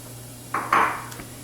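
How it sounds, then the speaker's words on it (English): A lid set down on a pan of sautéing onion, giving one short metallic clink followed by a second brighter clatter, close and clear against a low steady background. "So I like to put the lid on it for a few minutes to release the moisture"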